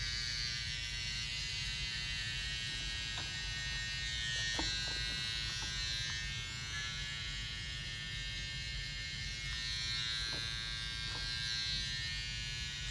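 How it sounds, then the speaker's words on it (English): An outliner trimmer buzzes steadily throughout while cleaning up a drop fade haircut to a skin finish, close and continuous with no talking. "And now I'm just going back, just kind of cleaning up with an outliner."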